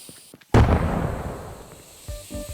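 A firework missile exploding in the Fireworks Mania game: after a couple of faint pops comes one sudden loud blast that rumbles and fades over two seconds, followed by a smaller crackle.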